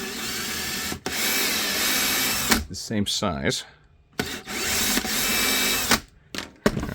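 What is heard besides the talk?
drill drilling out a mold part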